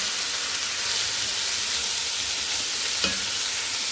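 Duck pieces and freekeh sauté in a pan with a steady, close broadband sizzle and faint stirring scrapes throughout, plus one brief sharper clink near the end.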